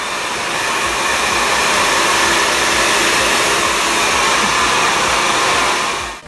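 A hair dryer fitted with a concentrator nozzle blows in a continuous, loud, close-up roar, alone and without pause until it cuts off right at the end.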